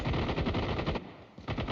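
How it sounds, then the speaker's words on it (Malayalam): Rapid automatic gunfire in Call of Duty Mobile battle royale: a dense, loud burst of shots lasting about a second, a brief pause, then firing resumes, with no speech. "അടുത്ത വെടി വെക്കുന്നു"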